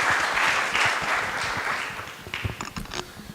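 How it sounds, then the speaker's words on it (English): Audience applause for a doctor at a healthcare congress on telemedicine, a dense steady wash of many hands that gradually thins and fades, with a few scattered louder claps near the end. "Please give a round of applause to Dr."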